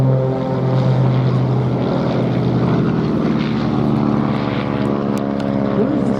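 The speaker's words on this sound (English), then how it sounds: "rolling underneath the two Extreme Air XA-41s of the Red Bull Matadors, led by Paul Bonhomme" Two Extreme Air XA-41 aerobatic planes of the Red Bull Matadors display team flying at the Duxford VE Day anniversary air show, giving a steady, loud propeller-engine drone that holds throughout, with a faint announcer voice underneath.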